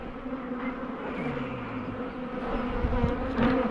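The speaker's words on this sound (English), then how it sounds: "2 more hives of angry bees" Angry bees swarm around an opened beehive in a steady, dense buzz that swells slightly louder toward the end, with a few individual bees droning close by.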